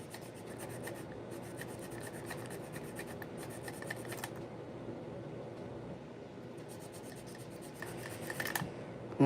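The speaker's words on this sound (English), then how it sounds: "we'll get this all sanded up, down, whatever" Hand sanding on small model locomotive parts, a soft, steady scratchy rubbing close by with brief louder stretches and short pauses, no talking.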